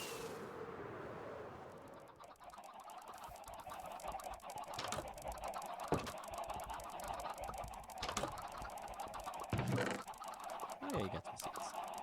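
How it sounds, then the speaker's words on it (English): A crowd of Minecraft chickens in a pen, overlapping fowl clucks and squawks with short sharp bursts, moderately close and continuous, a voice faintly present in the background. "there's so many chickens in here"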